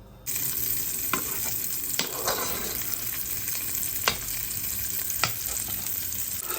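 Chopped chorizo fries in hot oil in a pan, a loud, constant crackling sizzle that starts abruptly and holds steady, punctuated by a few sharp utensil taps against the pan, with no talk.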